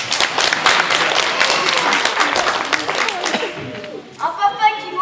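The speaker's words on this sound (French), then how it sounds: "Vous pouvez l'applaudir." Theatre audience applauding during a live stage show, dense clapping for about three and a half seconds that then fades out, followed by someone talking.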